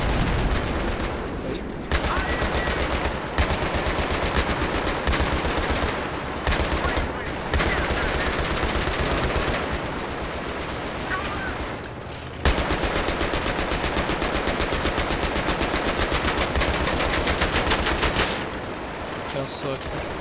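Machine gun fire in the video game Battlefield 3, long, loud bursts of rapid automatic shots broken by short pauses, with voices talking over the gunfire.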